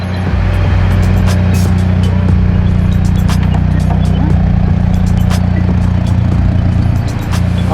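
A Mitsubishi Evo's engine idles close by after repair work, giving a loud, steady low rumble that continues throughout with faint clicks and ticks on top.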